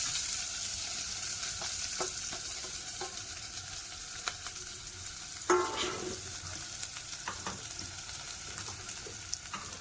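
Onion and green chili sauté in oil with a soft, steady sizzle, punctuated by light scattered taps of stirring and one sharper clatter partway through.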